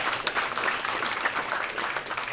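Audience applause at a San Francisco tech demo night, a steady wash of clapping from a crowd lasting the whole stretch at even loudness, with no talk over it.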